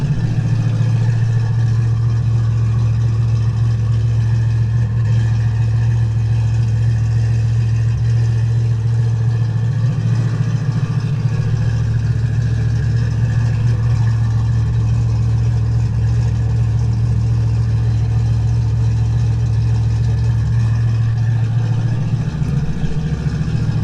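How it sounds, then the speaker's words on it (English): Audi B6 S4 engine idling steadily nearby with a deep, loud droning hum that holds even for over twenty seconds, with slight shifts in pitch and no voices. "It's kind of loud because I have the car running right now."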